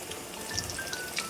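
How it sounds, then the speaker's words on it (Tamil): Chicken frying in hot oil over a lowered flame, a faint soft sizzle with scattered small pops and crackles. "எண்ணெய் சூடு வந்துருச்சு, அது போட்டுக்கலாம். அடுப்பை கொஞ்சம் சிம்மில் வச்சுக்கலாம். வச்சுக்கிட்டு வறுத்துக்கோங்க."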